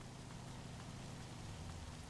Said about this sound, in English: it's raining out. I don't want to get wet.